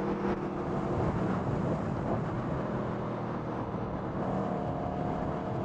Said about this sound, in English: Just hopping through the gears.